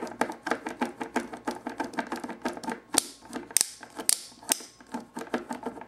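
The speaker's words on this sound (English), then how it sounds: "he has like a little click, much like the strike twist figures, and in fact it does have a little striking motion when you move him by the waist" Repeated small plastic clicks from the waist joint of a 1993 Toy Biz X-Men Apocalypse action figure, rapid and irregular, close up with a few sharper snaps, no talk.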